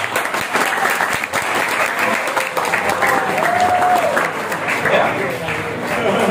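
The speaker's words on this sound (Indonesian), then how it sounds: "Tepuk tangan dulu buat tempat." A school audience at a high school worship service applauds in a dense, sustained round of clapping, loud and close, with a few voices and a brief word spoken over it.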